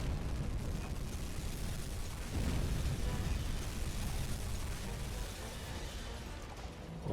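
Torpedo hits on a Kirov class warship in the submarine game UBOAT, a deep, rumbling sustained explosion with a low boom partway through, loud and steady, without any voices.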